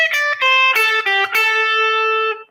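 Electric blues guitar with distortion playing a short phrase of several picked notes, ending on a held note that rings and decays, close and clear with no talking.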